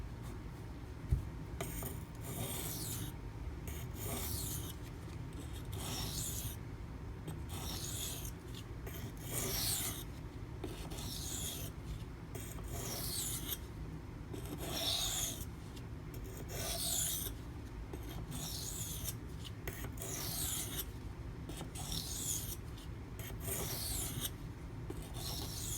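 A Spyderco Manix 2 knife with a Maxamet steel blade is drawn in alternating strokes across a CBN waterstone, producing a steady series of rhythmic, close-up scraping rasps, one after another without pause, with no talking.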